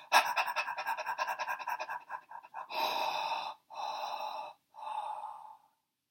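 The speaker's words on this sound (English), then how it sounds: "the panting was number one" A person pants quickly in a breathing exercise, a burst of rapid short breaths followed by three longer, slower exhalations, close and clear with no talking.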